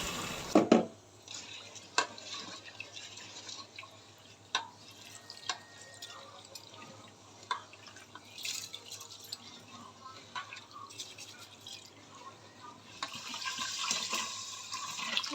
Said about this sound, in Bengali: আমি এখন চালটাকে ধুয়ে ভিজিয়ে রাখবো ভালো করে